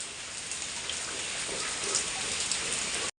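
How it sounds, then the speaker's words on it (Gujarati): Steady rain with a windstorm pours down continuously, a dense hiss of drops striking surfaces with no voices, holding even intensity throughout. "સવારનો વરસાદ ચાલુ છે"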